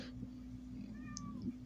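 A demanding house cat meows several times in short rising calls, fairly close, over a steady low hum in an indoor room.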